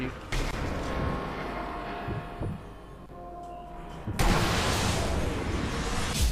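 Two sharp, loud sniper rifle shots ring out in Sniper Elite V2, a few seconds apart, each followed by a rumbling echoing tail.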